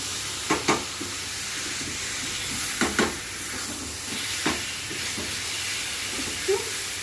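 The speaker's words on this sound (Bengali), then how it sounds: "তারপরে পটলটা দিচ্ছি। দিয়ে একটা নাড়াচাড়া দিয়ে" Pointed gourd frying in a pan, a continuous soft sizzle broken by a few sharp spatula scrapes and clicks as it is stirred. No voices.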